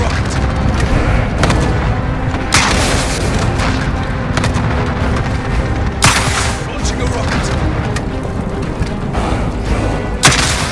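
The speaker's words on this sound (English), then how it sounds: "Launching a rocket" Rocket launch and blasts in Call of Duty: Modern Warfare, a loud continuous battle din with several sharp booming bursts over rumbling gunfire, under faint game chatter.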